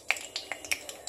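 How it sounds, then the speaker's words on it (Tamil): Mustard seeds splutter in hot oil, giving a quick run of sharp, close popping cracks in a brief burst. "கடுகு இப்போ பொரிய ஆரம்பிச்சிருச்சு."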